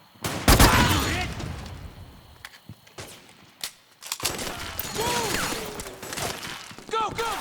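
Loud, close gunfire erupts in a Metal Gear Solid 4 firefight, with scattered single shots and bursts through several seconds, and voices shouting among the shots.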